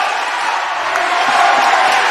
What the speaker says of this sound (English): As you can hear the crowd getting involved now